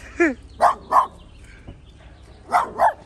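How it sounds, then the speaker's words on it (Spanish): A small dog barks sharply five times at close range, two quick yaps, a third, then a pause before two more, with no talking over them. "Mira el perrillo, el perrillo."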